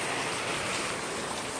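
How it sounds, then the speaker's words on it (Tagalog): Heavy rain falling outdoors, a dense, continuous hiss with no break, steady and moderately loud. "Ay ulan."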